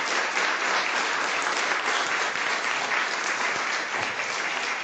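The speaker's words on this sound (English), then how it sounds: "let's give a round of applause for all our poster presenters" Steady, even applause from an audience at a scientific conference honoring poster presenters, a continuous moderate-level wash of many hands clapping without a break.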